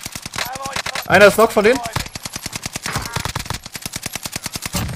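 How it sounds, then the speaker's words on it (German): Rapid automatic gunfire in Call of Duty Warzone, a steady rattling burst of evenly spaced shots running almost the whole time, broken by a short stretch of voices talking over it. "Oh, die schießen auch auf mich."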